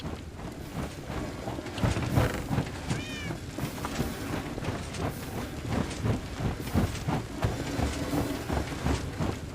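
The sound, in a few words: cats meowing in Minecraft (Enigmatica 2 modpack), video game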